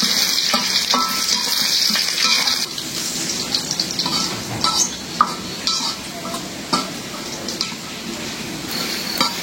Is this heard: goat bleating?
no